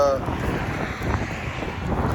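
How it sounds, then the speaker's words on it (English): Gusty wind buffets the microphone in a steady rumbling roar, with water sounds beneath and a brief voice at the start. "A little windy."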